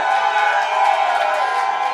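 A dense crowd roar of cheering and whooping fills the air at a French public-services awards ceremony, loud and sustained, with no distinct individual claps standing out.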